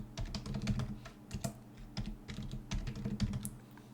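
Password being typed on a computer keyboard, a quick irregular run of soft, close key clicks in short bursts with brief gaps.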